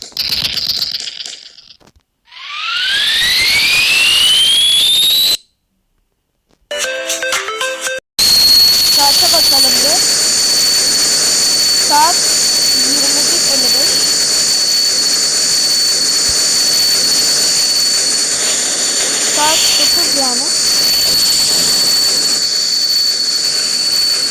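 Jet aircraft roar overhead in a shooting video game, a loud rising whine sweeping upward, then a steady high-pitched engine drone sustained for many seconds alongside other game noises.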